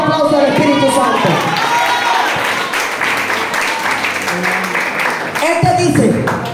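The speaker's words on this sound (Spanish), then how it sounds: "Denle un fuerte aplauso al Espíritu Santo" A Spanish-speaking church congregation breaks into loud applause mixed with cheering and shouts, a dense roar of clapping and voices that surges near the end.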